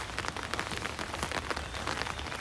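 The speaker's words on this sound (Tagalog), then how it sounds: "Ulan ngayon" Steady, dense rain falling on a rainy morning in Japan, a continuous hiss of drops spattering on surfaces, close and fairly loud throughout with no speech.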